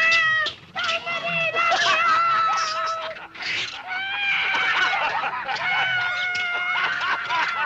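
Several cats meow insistently and almost without pause, their drawn-out calls overlapping and close to the listener, with a brief lull near the start and another in the middle.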